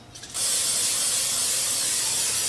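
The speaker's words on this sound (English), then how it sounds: "I'm just going to use this butter spray." A short click followed by a loud, continuous aerosol spray hiss of butter cooking spray, close by and steady for a couple of seconds.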